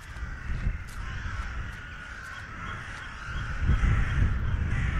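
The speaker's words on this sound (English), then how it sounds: "And now the birds." Crows caw in the pixel-art horror puzzle-adventure game The Last Door, with repeated harsh calls over a rumbling, wind-like ambience and a few soft thumps.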